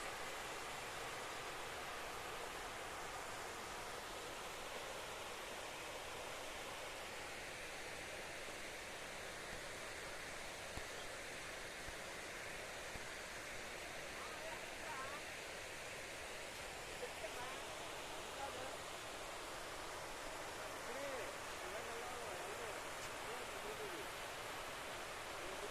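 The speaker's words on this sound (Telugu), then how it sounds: "చూడండి ఎంత బాగుందో వాటర్ ఫాల్, అద్భుతంగా ఉంది కదా." A scenic waterfall roars as a steady, dense rush of falling water, continuous and fairly loud throughout with no pauses.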